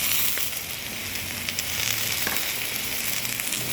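Mushrooms fry in hot oil in a pan, giving a steady, close sizzle with fine crackles and occasional sharper pops throughout, no voices over it.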